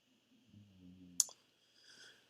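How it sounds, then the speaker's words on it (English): A single sharp mouse click on a share button, quiet and isolated against a faint background hum. "you can click this little arrow here, the share button"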